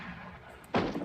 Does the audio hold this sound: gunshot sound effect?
yes